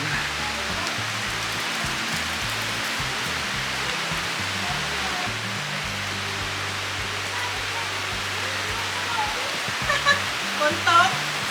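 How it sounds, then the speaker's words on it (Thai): Heavy rain pours down at Mae Kampong, a steady broadband hiss that fills the whole scene close around the listener, with a voice talking low underneath and a few louder splashes near the end. "ตอนนี้ฝนตกแล้วจ้า"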